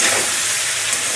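A short burst of steady hiss and sizzle as a little water hits a hot pan of paneer and vegetables, loud and close with no talking.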